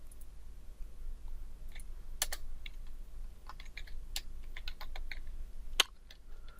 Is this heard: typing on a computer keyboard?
yes